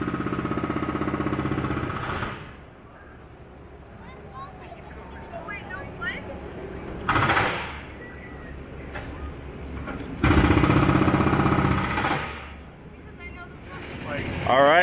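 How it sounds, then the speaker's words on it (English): A demolition jackhammer pounds concrete and rock at the Golden Bear Theatre site at Six Flags Magic Mountain, in loud sustained rattling bursts of a few seconds each with quieter machinery rumble between them. "now they're hammering away at all that concrete and rock"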